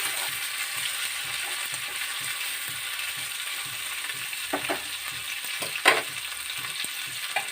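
Ivy gourd frying in a pan for chutney, a steady soft sizzle with a faint repetitive scraping stir and a couple of sharper clinks near the end, no talking.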